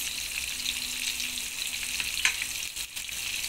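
Curry leaves and spices fry in hot oil, giving a steady close sizzle and hiss throughout with a brief crackling flare partway through. No one talks.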